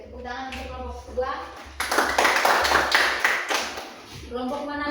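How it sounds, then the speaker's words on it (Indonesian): A classroom of students claps for a student group, a short burst of applause lasting about two seconds, with children's voices talking before and after it. "tepuk tangan untuk kelompok 2"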